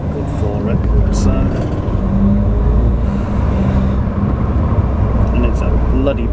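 A 1984 Toyota Celica Supra with a 2.8-litre straight-six engine drives along, its steady low engine drone and road noise continuous and fairly loud throughout, with a voice talking over it.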